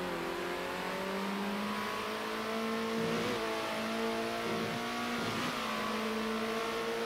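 Go-kart engines in the racing video game Karting Superstars buzz and rev steadily, rising and falling in pitch as the karts race, sounding moderately loud with no talking.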